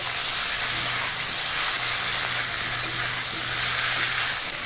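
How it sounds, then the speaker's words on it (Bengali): Raw mango pieces frying with salt and turmeric for a mango jelly pickle, a loud continuous sizzle with steady stirring throughout. "লবণ হলুদ দিয়ে খুব সুন্দর করে নেড়ে নেব।"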